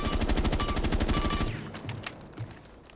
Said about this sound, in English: We're going to add shooting